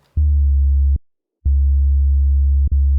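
Serum synth patch stacking a sine-wave oscillator pitched two octaves up with light FM, playing three sustained bass notes with short gaps between them, loud and clean with no other sounds.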